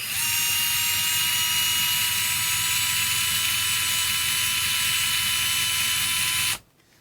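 A WORX WX242 MAX 4V lithium-ion electric screwdriver runs in reverse with a steady, close, high motor whine that holds for about six seconds and then cuts off abruptly.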